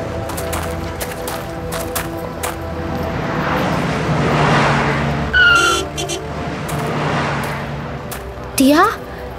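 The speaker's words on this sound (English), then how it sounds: "That car almost hit that pedestrian crossing the road." In a children's animated story, a car passes on a street with engine noise swelling and fading, and two short, sharp tire squeals mark a close call with a pedestrian crossing the road.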